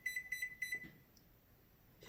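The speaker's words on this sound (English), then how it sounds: "that's my oven letting me know that it is up to temp." A kitchen oven sounds its preheat alert, three sets of paired high electronic beeps in a quick even rhythm, clear and fairly close in an otherwise quiet room.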